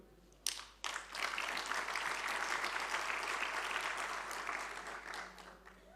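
Audience applause at the opening of the Hacı Ahmet Erdoğan Mosque in Rize, a sharp burst of clapping that swells into steady, dense crowd applause lasting several seconds before easing off slightly.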